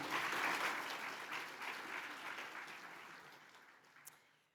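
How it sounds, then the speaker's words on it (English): Banquet audience applauding at an annual community awards dinner, a dense steady wash of many hands clapping that gradually fades toward the end, with no talk over it. "Let's have a round of applause for that."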